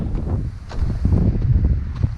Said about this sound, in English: Here it comes. It's gonna be windy.